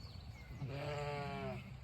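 A single sheep on a farm gives one faint, wavering bleat lasting about a second, heard a little distant over quiet outdoor background.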